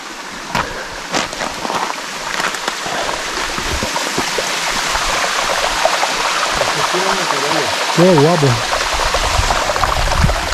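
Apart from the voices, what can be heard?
mountain stream water flowing on GR20 trail, Corsica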